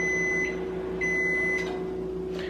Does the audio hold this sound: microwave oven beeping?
yes